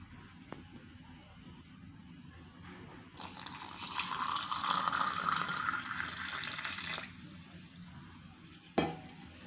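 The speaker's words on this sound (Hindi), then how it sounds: "तो इसमें हम डालेंगे पानी।" Water poured into sattu for a sweet summer sharbat makes a steady splashing pour lasting a few seconds, followed by a short clink of a utensil near the end, with no talking.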